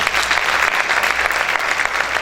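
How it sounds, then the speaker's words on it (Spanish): A congregation at a fasting church service claps loudly and steadily, a dense, continuous round of applause filling the whole moment. "Aplaude fuerte al Señor."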